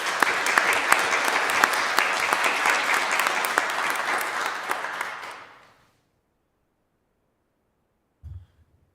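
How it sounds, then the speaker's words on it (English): Round of applause at a county board of commissioners meeting honoring Employee of the Quarter nominees: dense, steady clapping from a crowd for about five seconds, then fading out to silence, with a brief low thump near the end. "let's recognize with a round of applause all of the Employee of the Quarter nominees from the various groups"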